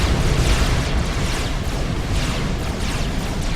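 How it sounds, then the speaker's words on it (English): Bombers striking tanks in a strategy game: a dense, loud, continuous rumble of overlapping explosions and booms with no break. "So using bombers to hit the tanks."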